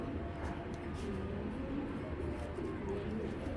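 Male Giribaz pigeons coo softly in a low, continuous murmur, fairly faint, over a dense rumbling background that persists throughout.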